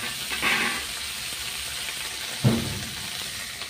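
Dried red and green chillies hit hot oil for a tempering, crackling in two sharp bursts over a low, steady sizzle, close by with no talk.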